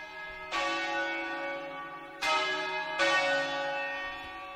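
A large church bell strikes three times with long ringing decays, the tolls unevenly spaced, heard clearly without any talking.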